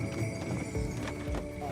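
Two 12-year-old sleigh horses, a gelding and a mare, clip-clop along with close, uneven hoof strikes and some jingling under a steady low background, while a person talks over them.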